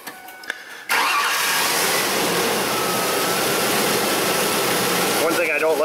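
A Mazda B3000 / Ford Ranger pickup with a lean-running misfire cranks briefly, fires up and settles into a loud, steady idle that holds close up to the end, with a couple of short sounds before the start.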